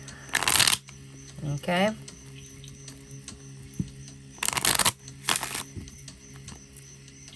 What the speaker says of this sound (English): we're going to shuffle up these cards and figure it out together